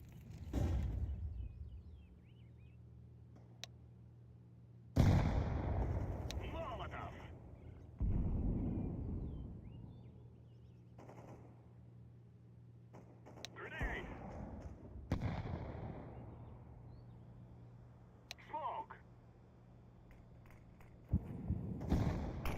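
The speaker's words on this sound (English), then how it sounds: "I'm throwing a grenade." Grenade and flashbang explosions in a video game: about six loud, booming blasts at irregular intervals, each with a long decaying rumble, over a steady low hum with faint voices in the background.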